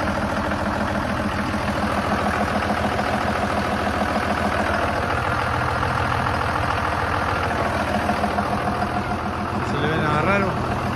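A car engine idles evenly with a steady, continuous hum that stays close and constant throughout, while someone talks over it.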